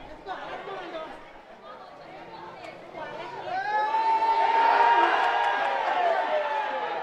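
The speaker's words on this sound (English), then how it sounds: "And we hear chants by the crowd." Football match crowd of Mavericks FC and rival supporters, a broad murmuring mass of voices that swells into louder sustained chanting and whoops in the second half, steady and distant-sounding.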